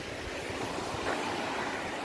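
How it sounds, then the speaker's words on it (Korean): A steady rushing wash of water, like a stream or surf, fills the whole moment, with a little wind noise mixed in, heard outdoors in winter near Samseonggung in Korea. "겨울에 물소리 들리시는가요?"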